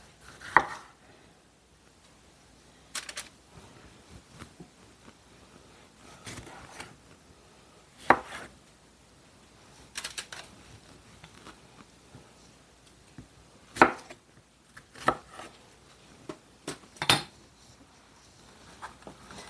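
A knife chopping food on a cutting board in a home kitchen, about a dozen light, irregular taps spread out alone over a quiet background.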